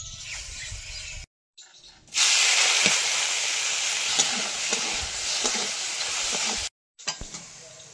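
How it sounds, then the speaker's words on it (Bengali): Fish coated with salt and turmeric fry in hot oil with a loud, steady hiss and spatter, cut by brief gaps, with occasional clinks of stirring, close and alone. "লবণ হলুদ দিয়ে মাছগুলো ভেজে নেব"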